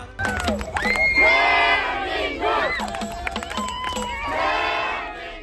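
Football fans in Qatar roar and shout in loud, excited bursts after Son Heung-min scores a free kick against Australia. Many voices rise and fall in waves of cheering and chanting close by.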